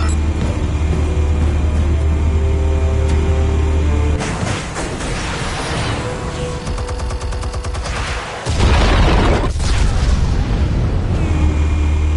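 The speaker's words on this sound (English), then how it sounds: "Explosives armed. Fire when ready." Armed explosives going off in the Batman Telltale Series video game, a long roar of blasts and rumbling booms with a sharp burst partway through, loud and sustained, with a game soundtrack underneath.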